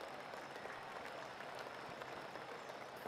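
Crowd applause in the PGA Tour 2K21 golf video game forms a steady, faint wash of clapping that holds evenly for a few seconds, with no voices on top.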